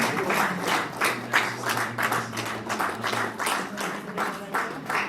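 Applause from the audience at a Bible college graduation ceremony, a steady run of many hands clapping together, moderately loud and sustained for several seconds with no pause.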